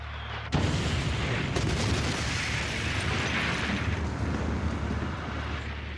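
A huge, sustained roar of a warehouse explosion of 2,700 tons of ammonium nitrate in Beirut, Lebanon, bursts in suddenly and rumbles on loudly, with crackling debris and a second thump about a second later.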